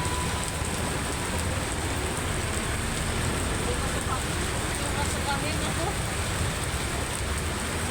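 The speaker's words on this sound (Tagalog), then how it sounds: "Ay, grabe yung ulan." Heavy rain falls steadily as a dense, constant hiss and patter, loud and close, with no breaks over the whole stretch and no clear voices over it.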